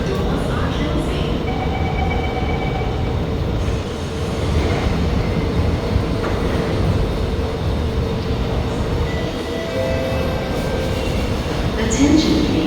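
An SMRT metro train closes its doors and departs, with a steady rumble of the rail car and faint tones. A station announcement plays over the running noise.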